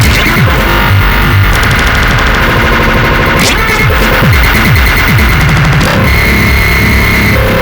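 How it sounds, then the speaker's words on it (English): Korg Electribe EMX-1 groovebox with its grain shifter effect engaged, a loud dense stream of chopped, stuttering glitchy beats and distorted rapid-fire bursts, continuous and harsh with no talking. "Grain shifter."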